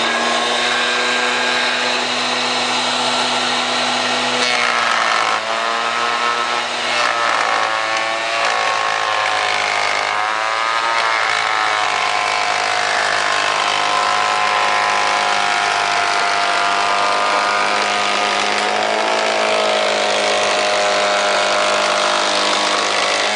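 An SSR 1600 planer-thicknesser planes a wooden board in a workshop, giving a loud, steady high-pitched motor whine with a cutting rasp. It runs continuously for the whole stretch, with slight pitch dips as the board feeds through.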